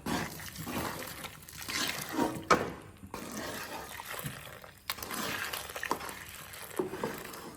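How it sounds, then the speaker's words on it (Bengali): Milk pouring into a pot of palm-fruit payesh, a continuous close liquid splash and gurgle running for several seconds with brief pauses and small knocks. "দুধটাকে এখন দিয়ে দিচ্ছি"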